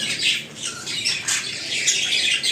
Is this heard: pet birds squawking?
yes